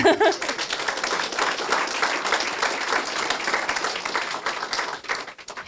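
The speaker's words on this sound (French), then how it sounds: "On leur adresse chaleureusement nos remerciements et on peut les applaudir également" An audience at a curling club's 40th anniversary event applauds warmly, a dense, steady patter of many hands clapping for several seconds after a brief voice at the start, tapering off toward the end.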